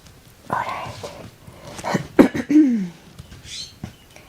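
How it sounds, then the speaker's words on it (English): A couple of short, close coughs with a throat-clearing rasp, breaking through otherwise quiet breathing and rustling. "Morning cough."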